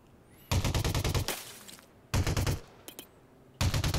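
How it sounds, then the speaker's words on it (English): AR-50 rifle in the video game Elite Dangerous: Odyssey fires three loud, rapid bursts of automatic gunfire, each about a second long, separated by short quiet gaps. "the AR-50 that you'll see me using throughout all of this is an absolute cannon"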